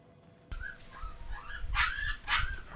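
A puppy yips and barks in a run of short, high, close calls that grow louder toward the end, indoors and with no one speaking over them.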